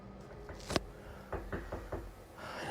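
Several dull knocks sound inside a room, one sharp thud followed by a quick series of four softer raps, fairly close in a quiet space.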